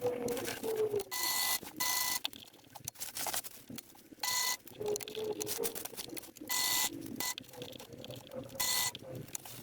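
Bursts of sewing machine stitching through camper bed upholstery, a whirring motor that starts and stops in short runs separated by brief pauses and small handling noises.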